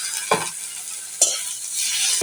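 Ginger-garlic paste frying with browned onions in a pan, steady sizzle broken by two sharp stirring scrapes.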